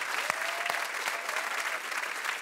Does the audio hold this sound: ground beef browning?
no